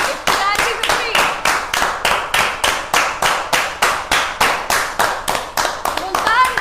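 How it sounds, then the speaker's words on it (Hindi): Steady, evenly spaced hand claps, about three per second, ring out close and loud for a cricket batter reaching a half-century at the Asia Cup. "50 के लिए ताली।"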